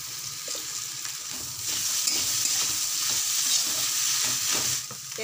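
Frying in hot oil seasoned with turmeric and salt, with fish to follow, while a spatula scrapes and stirs the pan. A steady, close sizzle carries repeated scraping strokes, and it grows louder partway through.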